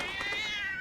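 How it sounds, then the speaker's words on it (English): A cat meows in a video game, one drawn-out, fairly faint whining call with a wavering pitch and no other sound around it. "Why is that cat meowing?"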